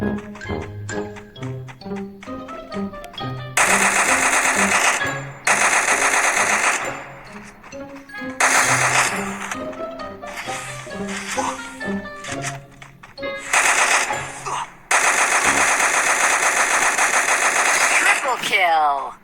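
Rapid automatic gunfire in the battle-royale game Free Fire, rattling in repeated bursts beneath loud, blaring background music, with a man chattering over the shooting throughout.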